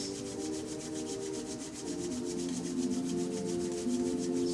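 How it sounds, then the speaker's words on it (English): Palms rubbed together vigorously during a chair yoga session, a steady rapid swishing friction with an even, fast rhythm, close and moderately loud, slightly intensifying toward the end. "Rubbing palms together rather vigorously, feeling the warm energy in the palms of your hands."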